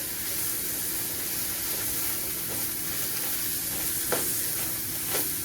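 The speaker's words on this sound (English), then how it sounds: "Add a little bit of margarine because I find when you add margarine, it helps cook it so much quicker and brown it." Margarine sizzling in a hot frying pan for homemade meatloaf: a steady, close crackling hiss with a couple of brief sharper pops near the end and no talk.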